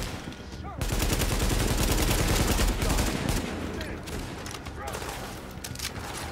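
Heavy automatic weapon fire from the player's guns in Tom Clancy's The Division, a dense loud continuous burst of rapid shots starting abruptly, then lighter firing as a voice talks over it.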